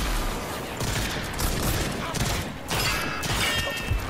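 Rapid gunfire from a weapon in RAGE 2, a dense continuous fusillade of sharp shots, loud and close throughout with a brief lull.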